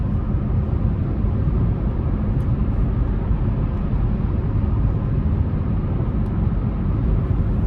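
A 2025 Buick Encore GX Sport Touring cruises down the interstate, heard from inside as a steady, loud low rumble of road and tire noise with a constant engine drone and no talking.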